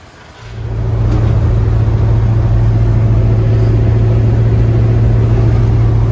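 A vehicle engine, on a truck being set up for a lower body drop and better ride height, fires up and settles into a steady, loud idle. The close, droning rumble holds evenly to the end.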